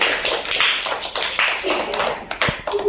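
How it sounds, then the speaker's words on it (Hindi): A group claps hands several times in sharp, close bursts, with some voices and room noise around the claps. "चलो 3 बोलते हैं, ताली बजा लो।"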